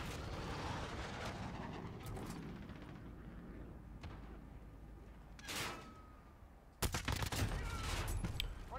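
Gunfire in Call of Duty Modern Warfare multiplayer: quiet game ambience broken by a sharp shot, then a dense, loud volley of rapid shots in the last couple of seconds.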